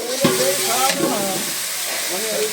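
Chicken kosha stirred and fried in a pan, a steady sizzle with scraping stirring strokes, while a faint voice murmurs in the background.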